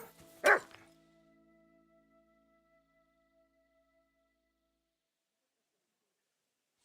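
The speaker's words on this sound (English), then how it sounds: "Oh, you pooch." A single sharp dog bark rings out in Kingdom Come: Deliverance II, close and clear, then trails off into a ringing tonal echo and near silence.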